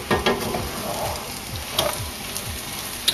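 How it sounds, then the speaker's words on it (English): Potato and egg hash fries in a pan, seasoned with garlic salt, with a steady close sizzle broken by several scraping stirs of a utensil against the pan, and no voices. "Stir that around."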